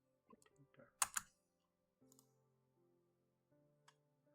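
A few scattered keystrokes and clicks on a computer keyboard, faint and close, with one sharper burst of taps followed by sparse isolated clicks.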